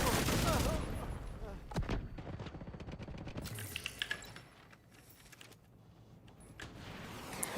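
Riker turrets firing in a video game mission: scattered sharp shots and short bursts at moderate distance, mixed with game ambience, loudest at the start and fading to sparser reports later.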